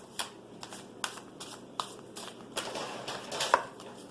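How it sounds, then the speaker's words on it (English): Tarot cards drawn from a deck, heard as a series of close, sharp card snaps and slides spaced about half a second apart, then a denser rustle of shuffling near the end, with no voices. "I'm going to draw 2 more cards."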